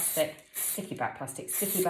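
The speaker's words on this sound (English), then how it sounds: "So just give it a good spray" Short bursts of aerosol spray hiss in quick succession while a person talks over them nearby.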